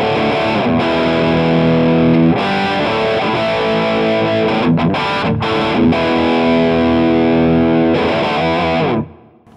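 An electric guitar played through a Kemper Stage profiler with heavy distortion and effects, sent to an interface over XLR. The dense, loud strummed chords ring continuously with brief gaps, then cut off near the end.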